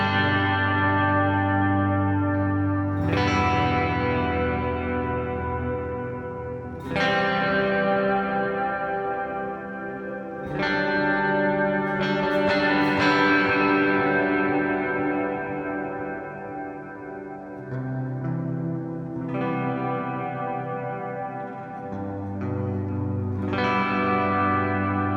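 An ESP LTD TE-200DX electric guitar on its neck pickup rings out slow, sustained chords and notes through effects with chorus, light distortion and echo, each strum decaying before the next.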